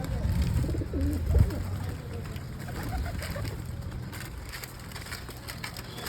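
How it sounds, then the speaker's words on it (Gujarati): Pigeons coo softly nearby as they are fed gathiya snacks outdoors, with low murmured calls and rustling, crunching sounds of the food and birds. "આયા કબૂતર"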